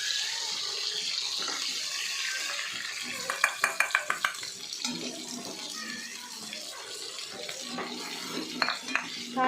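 A spoon stirs chili powder into a frying pan on a gas stove, making a burst of rapid metallic clinks and scrapes against the pan, then quieter intermittent stirring in an otherwise quiet kitchen.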